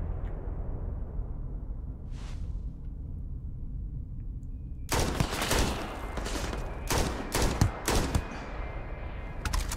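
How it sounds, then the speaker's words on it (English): Gunfire in the video game Starfield: after a quiet, low rumbling stretch, a flurry of close, sharp shots and bursts breaks out in the second half. "Oh, good shooting, Tex."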